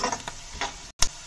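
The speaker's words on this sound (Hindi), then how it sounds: "चटकने की आवाज़ आपको सुनाई दे रही होगी।" Bhat (black soybeans) dry-roasting in a pan for a Pahadi chudkani, giving scattered sharp crackles and pops at irregular intervals, with one louder snap near the end and no voices.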